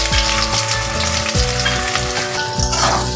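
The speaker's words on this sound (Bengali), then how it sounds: "তারপরে আমি পেঁয়াজটা দিয়ে দিচ্ছি।" Onion drops into hot oil already spiced with a bay leaf and whole dried red chillies, setting off a loud, close, continuous sputtering sizzle with a low hum beneath it and no voices.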